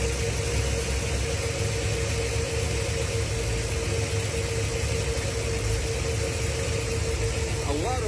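Carbureted V8 in a Ford Galaxie idling steadily, a continuous close engine rumble with a constant hum and no pauses.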